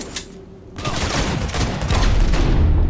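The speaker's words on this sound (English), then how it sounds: "I'm gonna keep shooting you in the head over there, bullet sponge." Sustained gunfire fills a firefight in the video game Cyberpunk 2077, a dense crackle of rapid shots that builds in loudness over the few seconds, with no voices.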